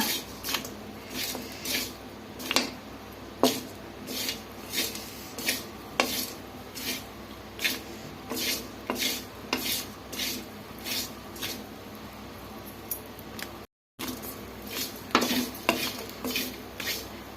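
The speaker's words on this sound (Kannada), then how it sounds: "ಕಡಿಮೆ ಉರಿಯಲ್ಲಿ ಚೆನ್ನಾಗಿ ಹುರ್ಕೊಬೇಕು, ಕೆಂಪಗಾಗೋವರೆಗೂ" Spices roasted in a pan over a low flame, stirred with a utensil, giving repeated metallic scrapes and clinks against the pan in a steady, roughly regular rhythm, fairly close with no talk.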